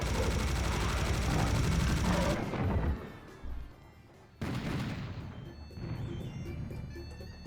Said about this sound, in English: the double barrel shotgun is so satisfying in this game